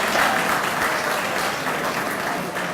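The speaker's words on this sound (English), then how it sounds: "Can we give an applause for the dinner" Dinner audience at an awards banquet applauding steadily, dense clapping from many hands that holds at a fairly loud, even level for the whole stretch with a faint voice or two underneath.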